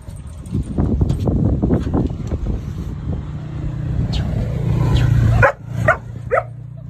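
Two dogs, a Rottweiler and a German Shepherd, bark repeatedly at close range, sharp yelps bursting out over a steady rumbling background, with a few louder barks near the end.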